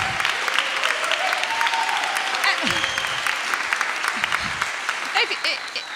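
Applause at a New York attorney general candidates' forum, a dense steady clatter of clapping from an audience filling the whole stretch, with a voice speaking faintly under it.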